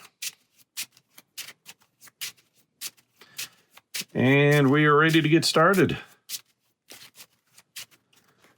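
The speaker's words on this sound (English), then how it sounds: "Shuffle those together." Cards from a dinosaur deck-building board game shuffled together in one loud riffle lasting nearly two seconds, close, with someone speaking before and after amid light tapping and handling sounds.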